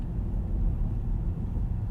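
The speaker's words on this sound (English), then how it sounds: "It retains this level of road noise, NVH, driving volume up until about 80 or 90 miles per hour." Quiet road noise inside a 2022 BMW iX xDrive50 electric SUV on a night drive: a soft, steady low rumble from the tires with no engine sound, even and unbroken.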